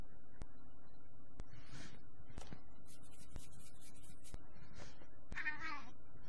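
A cat meows repeatedly in short, close calls spread across the stretch, with a few sharp clicks and a steady background hiss underneath.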